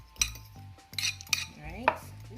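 Garlic butter ingredients mixed in a bowl, with a utensil clinking and scraping against the dish in several short bursts, close and fairly quiet, with no talking.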